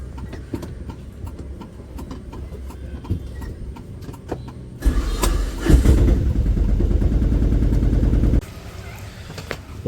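An autorickshaw engine starts up partway through and runs with a loud, rough idling putter nearby, following quieter outdoor street background, then settles to a lower hum near the end.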